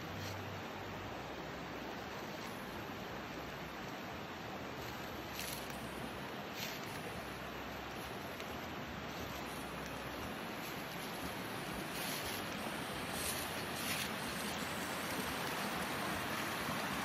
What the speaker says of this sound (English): Right here's the creek.